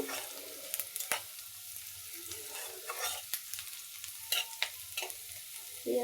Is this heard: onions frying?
yes